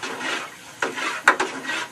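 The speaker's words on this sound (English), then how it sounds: "stirring your beer, your wort, is good because you want to incorporate some oxygen into it" Beer wort being stirred in a home brewing pot, soft swishing and rubbing strokes with a few sharp scrapes or knocks of the spoon against the vessel, close and moderately quiet.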